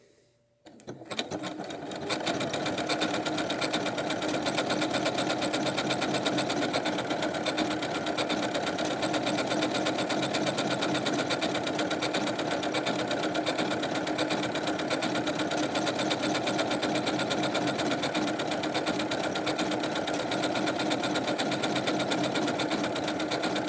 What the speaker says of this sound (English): Now let's go stitch this and see what it looks like.